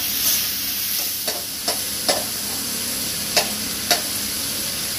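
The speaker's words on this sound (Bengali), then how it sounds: "দিয়ে পেঁয়াজটা একটু ফ্রাই করতে হবে।" Onion with a little salt frying in oil in a pan, a loud steady sizzle broken by regular scraping stirs of the spoon, with no talking.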